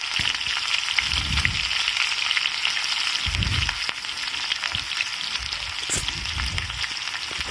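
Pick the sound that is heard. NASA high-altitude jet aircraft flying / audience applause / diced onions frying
diced onions frying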